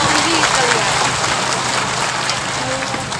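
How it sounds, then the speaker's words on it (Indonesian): Crowd applause at a religious gathering in Tulang Bawang Barat, Lampung, loud and dense clapping filling the space throughout, with some background voices mixed in. "Tepuk tangan."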